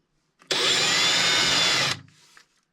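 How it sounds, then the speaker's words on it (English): A power drill pre-drills a hole in cherry wood, whirring loudly and steadily for about a second and a half, then winds down and stops, close by with no talking. "Pre-drill the hole."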